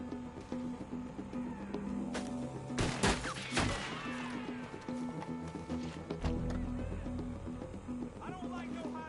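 Gunfire in Red Dead Redemption 2, a burst of loud close shots, then scattered single reports under a steady looping game music bed and ambient noise.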